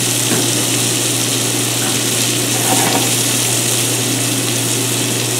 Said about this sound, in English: We'll add our mirepoix, which is our carrots, celery, and onions.